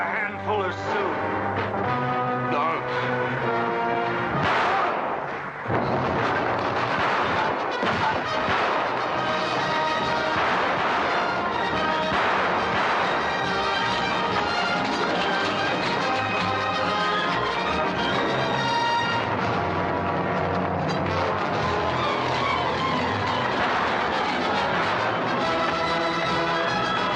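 Gunfire and artillery in a 1940 film battle scene, Santa Fe Trail: a loud, dense, continuous roar of firing and booms under an orchestral score, with shouting voices mixed in.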